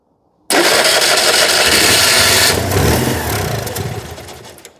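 A 2CV-based Falcon S kit car, abandoned for 23 years, cranks and catches with choke set: an abrupt burst of engine noise that holds strong, then sputters and fades unevenly toward the end.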